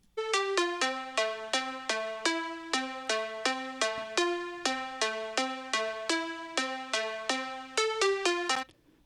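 A bright plucked-sounding synth lead layer built in Serum inside FL Studio plays a fast, evenly spaced melodic run of short notes, clear and alone, ending with a sharp cutoff.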